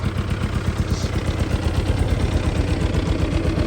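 A motorcycle engine treated with Seafoam runs with the choke off, idling close and loud in a steady, slightly rough low chug.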